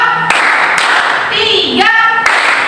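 A group of people at a school outreach meeting claps hands together in sharp, spaced bursts, each separate clap landing in time with a count, with voices sounding between the claps.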